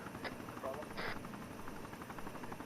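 A helicopter's steady rotor thump drones in the background of the video game Arma while a voice speaks over it.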